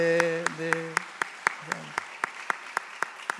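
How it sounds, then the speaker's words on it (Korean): Church congregation clapping during a Sunday service, a steady run of sharp, evenly spaced claps with a low tonal hum and faint voice underneath. "크게 박수 쳐주세요."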